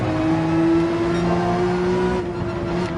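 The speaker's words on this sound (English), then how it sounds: "Is that the Mazda up ahead? It is screaming like an F1 car." A Mazda race car engine screams at high revs in Gran Turismo 7, a steady tonal whine held close and loud through a short stretch of racing.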